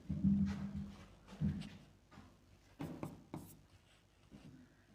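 Chalk or pen writing out a trigonometry sum on a board or paper, short scratchy strokes in several bursts, fairly close and moderately loud with no talk over it.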